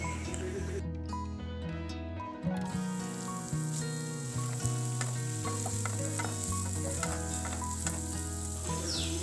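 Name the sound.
chopped onions frying in oil in a wok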